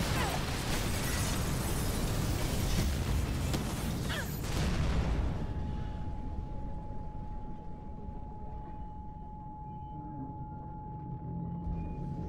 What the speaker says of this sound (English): Big explosion over here!